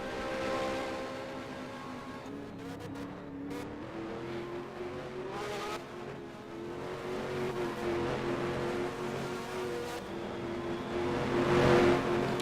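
Race cars in a racing video game, a Russian GP event, roar down the front stretch with layered engine whines that rise and fall, growing louder toward the end.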